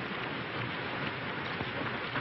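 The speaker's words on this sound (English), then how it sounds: "this rain." Heavy rain pours down steadily as a continuous, dense hiss with no breaks, heard on a 1932 film soundtrack with a muffled, band-limited tone.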